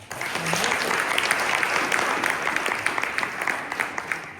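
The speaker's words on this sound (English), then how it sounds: "Give yourself a round of applause." An audience at an improv comedy show applauds loudly, dense clapping rising quickly and holding steady before thinning out toward the end.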